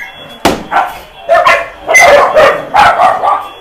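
Several dogs at a crowded breeding farm of about 110 dogs bark loudly and close by in a run of sharp, overlapping barks and yips, with a few short pauses between bursts.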